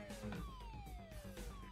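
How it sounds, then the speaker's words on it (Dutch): Police sirens wail in the background of the Emergency Hamburg video game, several overlapping falling tones sliding downward and steady for the whole short stretch, with no talking. "Ik hoor wel veel sirenes in de achtergrond."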